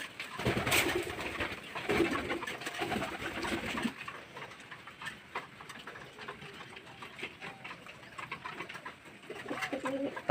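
Pigeons coo while feeding, soft repeated low calls up close with scattered pecking ticks and rustles, the cooing stronger at first and then quieter and intermittent.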